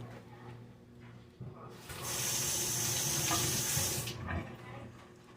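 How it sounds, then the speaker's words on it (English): A kitchen tap gushes for about two seconds as something is rinsed under it, close and steady, with quiet handling sounds before and after. "I'm going to rinse that real quick"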